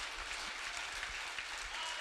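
A church congregation applauds, a steady wash of many hands clapping together, fairly soft and even throughout, with a faint voice underneath.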